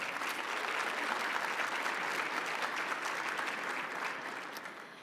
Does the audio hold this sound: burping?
no